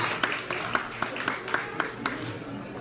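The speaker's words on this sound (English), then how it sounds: "Let's give our newcomers a round of applause." Scattered audience applause at a Busboys and Poets open mic, welcoming newcomers, with a handful of distinct claps standing out over a soft bed of crowd noise.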